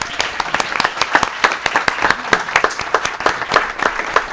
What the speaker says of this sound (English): they need another applause